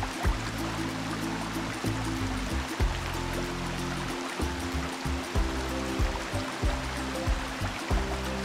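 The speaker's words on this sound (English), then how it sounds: "the freshwater lake was filled again in great force" Cartoon water rushing back in great force to refill a freshwater lake, a steady loud gushing and splashing flow with continuous broadband rush and low surging pulses.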